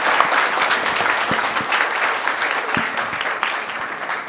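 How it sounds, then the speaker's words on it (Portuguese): Audience applause closing a panel session at the Brazil Energy Frontiers 2019 energy conference, a dense, steady wash of many hands clapping that holds at an even level throughout, with no talking over it. "uma salva de palmas."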